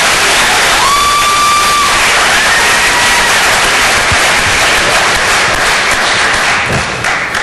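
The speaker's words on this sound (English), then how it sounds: "So let's give him a round of applause." Audience at a mayoral debate in Elyria cheering and applauding for the moderator, a newspaper editor, with loud, dense crowd noise and cheers filling the whole stretch and a few thuds.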